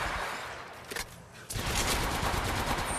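Bursts of gunfire in an Apex Legends match: a rapid rattle of shots, a short lull with a few scattered pops, then a loud sustained volley that runs to the end, with no talking over it.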